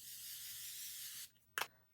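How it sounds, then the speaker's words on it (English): Morphe Continuous Setting Spray misted from a bottle: a long steady hiss of spray followed by a short, sharper second burst, close and alone. "I use the Morphe Continuous Setting Spray."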